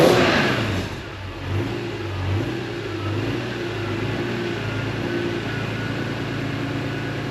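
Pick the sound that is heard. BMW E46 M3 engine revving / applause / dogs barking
BMW E46 M3 engine revving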